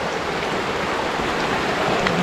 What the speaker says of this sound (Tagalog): Nandito kami sa may babuyan. Dito sa tabing ilog.